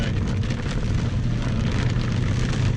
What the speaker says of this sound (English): it is actually pouring the rain